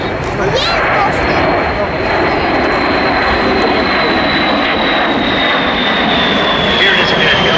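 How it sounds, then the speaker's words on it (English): A Boeing B-52 Stratofortress jet bomber roars past at an airshow, a loud, sustained engine rumble with a rising whine, while an announcer speaks over it. "And here he is, coming in from the left. The B-52 Superfortress"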